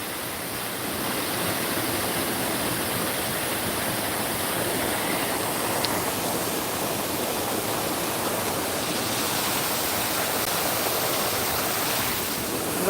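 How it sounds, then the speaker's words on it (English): Steady broadband rush of flowing water at an outdoor arboretum, continuous and fairly loud with no breaks, no voices over it. "you can hear the water in the background"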